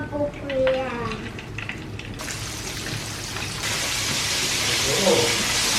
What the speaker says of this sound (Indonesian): Sekarang kita goreng si burung puyuh.